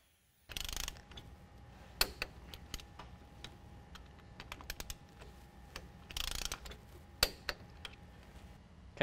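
A ratchet with a 15 mm socket tightens the lower strut mounting bolts on a 2014–2017 Chevy/GMC 1500 4WD during a lift kit install, with repeated quick clicking bursts and scattered metallic clicks close by.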